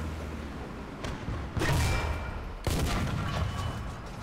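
Heavy tank cannon blasts in War Thunder, two loud booming shots about a second apart, each with a sharp crack and a rumbling tail, over a steady low engine drone.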